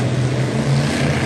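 Loud, steady engine roar from F1 stock cars running without silencers, a continuous low droning rumble at a racing final.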